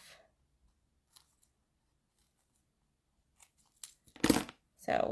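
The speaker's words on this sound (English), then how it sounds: "go to the side of your dimensionals and do a quick little snip or cut some dimensionals in half" A few quick scissor snips cutting dimensional foam adhesive squares in half at a paper-crafting table, close but soft, coming after a near-silent stretch with faint handling noises.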